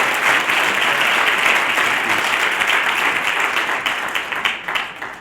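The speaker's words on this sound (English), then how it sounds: "let's give a round of applause to all of our honorees tonight" Sustained audience applause for honorees at a design awards ceremony, full and close, staying steady before gradually thinning into looser individual claps.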